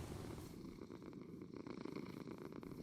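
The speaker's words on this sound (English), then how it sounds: "suddenly I hear a purring behind me" A cat purrs steadily and close by in a video game, a soft continuous rumble with a gentle rhythmic pulse and no talking.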